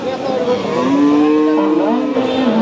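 A cow moos at the Bayra cattle market in Manikganj, Bangladesh: one long, loud, wavering low call rises over faint market background noise.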